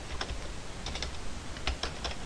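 Someone types on a computer keyboard, producing quiet, close clicks of keys in short, irregular bursts over faint background hiss.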